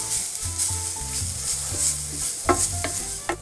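Grated horseradish frying in olive oil in a pan, a continuous sizzle broken by a few sharp scraping stirs near the end, close up with no voices.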